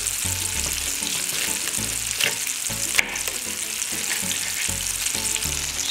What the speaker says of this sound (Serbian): Dok se meso prži